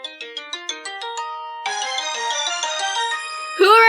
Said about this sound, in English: Who remembers this ringtone?